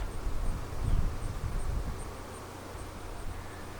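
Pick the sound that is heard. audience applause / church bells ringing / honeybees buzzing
honeybees buzzing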